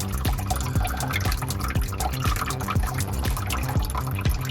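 Dirty water draining and dripping out of a removed sink trap, a steady run of close wet drips and splashes trickling into a container, continuous and alone.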